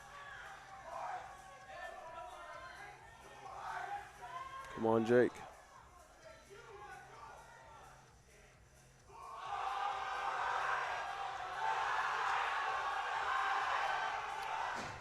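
A crowd at a powerlifting meet roars and cheers behind a lifter attempting a 300-kilo lift, with a broad swell of shouting that rises loud and sustained in the second half, after a spoken voice of encouragement near the start.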